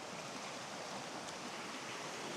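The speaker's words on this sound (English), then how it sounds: "That's the waterfall there." A waterfall pours over a rock ledge into a stream, a constant soft broadband rush heard from a distance with no other sounds.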